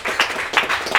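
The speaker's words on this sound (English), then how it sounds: "so have a little round of applause." An audience at a Manchester entrepreneur social gathering gives a brief round of clapping, with dense, even hand claps for about a second.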